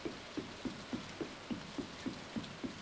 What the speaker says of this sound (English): We didn't have to water anything because it's raining